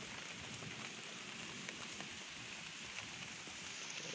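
Steady rain falls outdoors on a fishing trip, a soft, even hiss of drops that stays faint and constant throughout with no voices.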